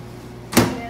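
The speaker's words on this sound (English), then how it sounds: "Then we're gonna go in the microwave for how long, Meredith?" A microwave oven door opens or shuts with a single short clunk in a home kitchen, heard once, fairly close, after a quiet stretch.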